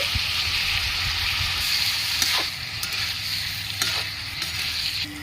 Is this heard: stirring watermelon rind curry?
yes